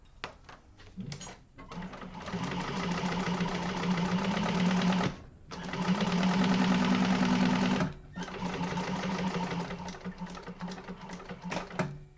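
A sewing machine top stitching a Yoshi Sling bag, running in three sustained bursts of fast, even stitching, close and loud, with short pauses and clicks between runs.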